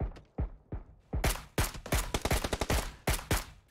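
Gunfire during a competitive shooter match, with sharp, loud shots in uneven bursts: a few spaced single cracks, then quick strings of rapid fire and a final pair of heavy reports, with no talk.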